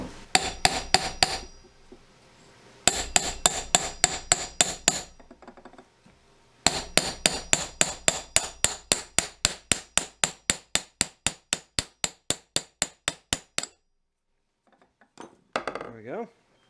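A starter generator part on a 1964 Cub Cadet 122 garden tractor being hammered back into place: loud, close metallic blows in several quick runs separated by pauses, then a faint scrape at the end.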